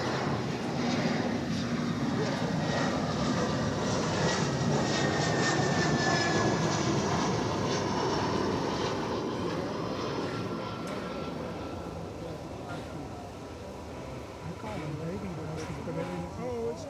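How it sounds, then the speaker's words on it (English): An airliner arriving from Silao, Mexico, passes at DFW Airport with a steady, loud engine roar lasting throughout. A person talks over it the whole time. "This is that flight from Silao in Mexico."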